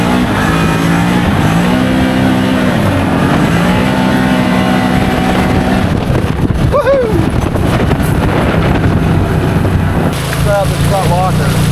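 Can-Am Maverick XMR side-by-side running in sport mode, its engine droning and rising in pitch through throttle changes, with wind buffeting the microphone and brief voices over the motor.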